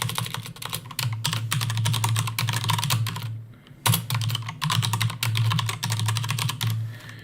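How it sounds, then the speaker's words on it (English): Rapid typing of a username and password on a computer keyboard, close and crisp, runs in dense bursts of key clicks with a brief pause midway, and there is no talking. "So I'm typing a username, yeah, and then a little password here."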